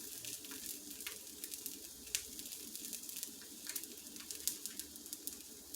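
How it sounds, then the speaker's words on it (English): Batter for carnivore taco shells sizzles in a hot pan, giving a steady, quiet crackle with scattered sharper pops throughout and no talking. "We're just going to let it sit until the sizzling subsides mostly."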